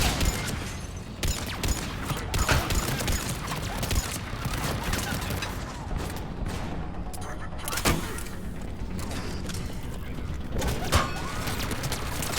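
Automated turrets firing in Mass Effect 3, rapid sharp bursts of gunfire cracking repeatedly over a busy combat mix, with voices talking over the shooting.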